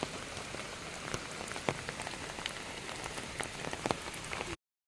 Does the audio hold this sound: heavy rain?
yes